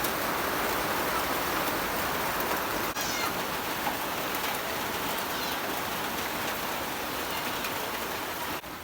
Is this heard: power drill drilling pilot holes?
no